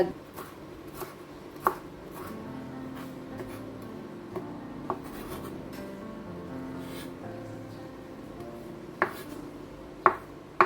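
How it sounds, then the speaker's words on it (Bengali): Fresh coriander and mint leaves are chopped on a board, sparse knife taps landing irregularly over a quiet room, a few sharper strikes standing out. "কিছু পুদিনা পাতাও কুচি নিয়ে নিচ্ছি"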